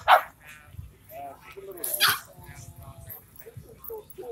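Bully breed dogs at an outdoor barbecue meetup give a few short barks and soft whimpers and yips, close by, with people talking around them.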